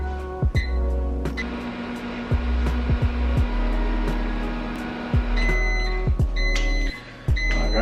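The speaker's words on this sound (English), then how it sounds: "throw it in the microwave for 90 seconds." Microwave oven heating a bowl of oats for 90 seconds, a continuous mechanical hum with a few clicks and thumps, closing in a string of high electronic beeps.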